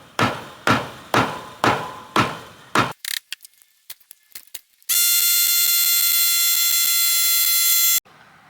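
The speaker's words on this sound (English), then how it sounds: "I staple it no more than a couple inches apart" A staple gun drives staples through wire screen onto a chicken coop in a run of sharp, regular thwacks, then a few lighter clicks, followed by a loud, sustained electronic beeping tone.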